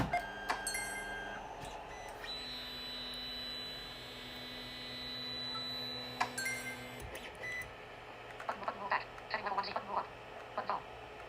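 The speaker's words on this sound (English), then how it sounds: "We're gonna home the X and Y." A 3D printer homes its X and Y axes, giving steady whining stepper-motor tones and short beeps, then clicks and brief taps as the carriage reaches its endstops, under faint background sounds.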